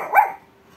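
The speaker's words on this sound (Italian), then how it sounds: "senti, vedi un po' questo cane" A single short dog bark rings out close by indoors, a sharp burst that quickly fades into quiet room tone.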